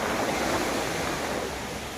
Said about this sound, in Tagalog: maalon kasi mahangin